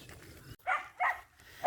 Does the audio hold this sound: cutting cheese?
no